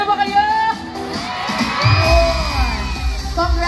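A concert crowd at a fan interaction during the Xiaomi All-Star Summer Concert, shouting, whooping and cheering loudly and swelling into a sustained roar.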